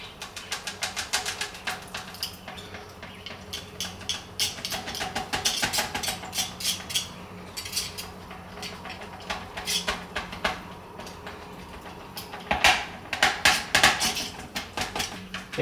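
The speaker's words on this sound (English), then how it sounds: "Now we're gonna stab more holes onto the pork belly skin here." Repeated sharp tapping and clinking as holes are stabbed into the crispy skin of air-fried pork belly, an irregular run of close, light stabs with a quiet kitchen hum underneath.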